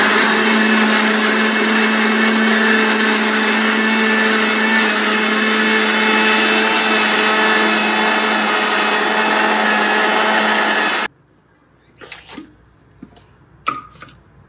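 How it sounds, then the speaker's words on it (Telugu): A blender grinds a mango kulfi mixture with sugar, running loud and steady for about eleven seconds before stopping abruptly, followed by a few faint clicks and knocks. "ఇప్పుడు దీన్ని ఫైన్ గా మూత పెట్టి ఫైన్ గా గ్రైండ్ చేసుకుందాం"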